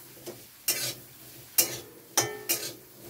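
Mushrooms frying in butter with chicken masala on low heat, a quiet sizzle punctuated by four or five sharp spatula scrapes and taps against the pan.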